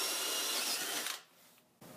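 A cordless drill bores a large hole in wood, a loud grinding whir that cuts off abruptly partway through, leaving a quiet pause before another short burst of noise.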